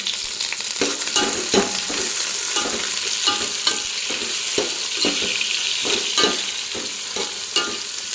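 Onions, curry leaves and mint frying in hot oil with bay leaf, cinnamon, cloves, fennel and marathi moggu for a vegetable palav, a loud even sizzle with frequent stirring scrapes close up.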